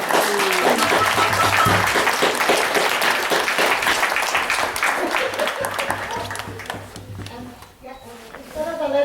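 Sustained crowd applause at a First Nation chief and council oath of office ceremony, loud and dense for most of the stretch before tapering and thinning near the end, with some voices mixed in.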